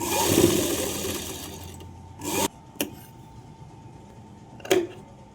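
A sewing machine stitches lining cloth for a blouse in short separate bursts, the loudest run near the middle and another brief burst near the end, with light cloth rubbing between them.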